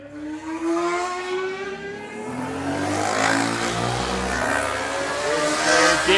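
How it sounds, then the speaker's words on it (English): Racing motorcycles, including a 300 and a Supersport 400 machine, pass at the Tandragee 100 road race. Loud, continuous high-revving engine whine rises and falls in pitch as the bikes sweep by. "So Lee Osprey on the 300 has made his way past that Supersport 400 machine of Aidan Cleary."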